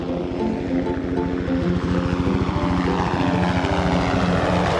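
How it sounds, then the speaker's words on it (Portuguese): Helicopter in a children's animated cartoon, a strong rhythmic rotor thumping with engine whine that holds loud and steady throughout, slightly roughening toward the end as it moves off. "Vejam um helicóptero voando para longe."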